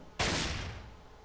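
A single loud gunshot from the Fallout game, fired at Fat Boy, with a sudden sharp crack that decays into a lingering echoing tail.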